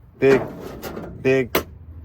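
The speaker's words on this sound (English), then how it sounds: "And then on to the money drawer, as people call it." A mechanic's toolbox drawer slides open in a mobile mechanic's setup, a short close rattling scrape with a second clunk of metal, heard under and between someone talking.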